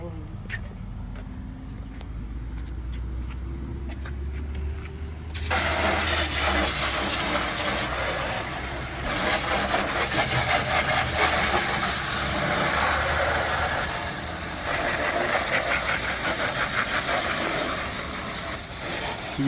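A garden hose sprays water over the engine bay of a 2010 car, a steady loud hiss starting suddenly after a low idling hum and continuing with slight surges throughout.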